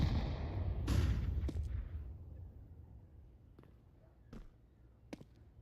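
Flashbang grenade going off: one sharp, loud boom with a decaying rumble, followed by a few faint, sharp pops farther off.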